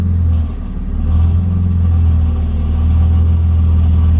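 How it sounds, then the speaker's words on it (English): A BMW E36 running with a loose heat shield, giving a steady low engine rumble and drone throughout, with slight swells in level and a faint buzzy rattle mixed into the hum; no one speaks. "It's like a heat shield rattling."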